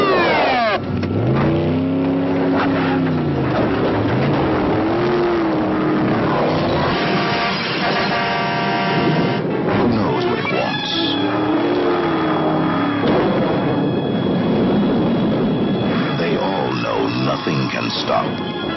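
A possessed car from the 1977 film The Car revs its engine loudly and continuously, with rising and falling roars over rumbling, dramatic sound, and voices are heard at times beneath the engine.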